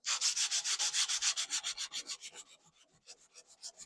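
Grain alcohol being rubbed onto wood veneer on a tall clock: a quick, rhythmic series of close scrubbing strokes, loud at first and gradually fading over a few seconds.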